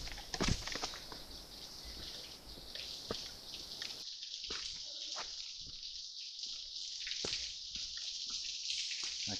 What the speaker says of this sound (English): I can hear the water now.